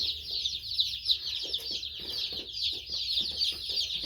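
Crowd of about a hundred baby chicks peeping continuously in a brooder, a dense, shrill chorus of high chirps with no talking.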